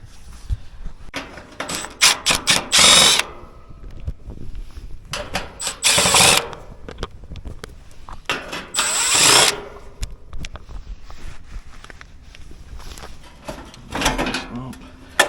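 Metal cover coming off an air conditioner's outdoor compressor unit: bursts of clattering, scraping and rattling panel handling, fairly close, with someone talking between the noises.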